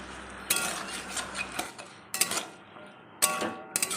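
A spoon stirs data shak chorchori, an amaranth greens curry, with added water and cumin powder in a pan, giving bursts of scraping and clinking against the metal with short quiet gaps between strokes.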